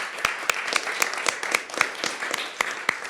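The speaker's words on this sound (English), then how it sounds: "Can we give our two speakers a big round of applause?" Lunchtime science presentation audience applauding two speakers, a moderate room of sparse individual claps with sharp distinct hand strikes in an uneven rhythm.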